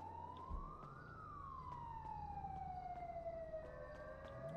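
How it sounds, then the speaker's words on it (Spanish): A wailing siren rising then slowly falling in pitch, fairly faint and distant, over a low rumble of traffic. "Apúrate, que escucho sirena."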